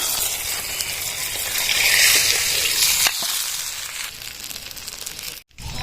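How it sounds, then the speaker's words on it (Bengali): Fish heads frying in hot oil in a pan, a loud steady sizzle with crackling spatter and occasional stirring scrapes, continuing throughout. "মাছের মাথাগুলো ভেজে নেব"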